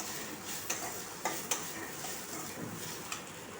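Four or five dry red chillies fry in a pan with tomato, onion, green chillies and curry leaves for a chutney, a faint soft sizzle broken by a few light clicks of a spoon against the pan.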